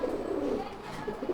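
Racing pigeons on a farm give soft, low, throaty coos in a brief burst.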